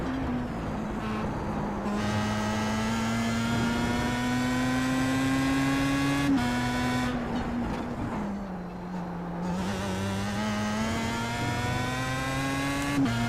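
Pro Mazda race car at Le Mans in a racing video game, engine droning loud and steady, with sharp pitch drops as it aggressively downshifts three gears into a corner, then climbing revs again.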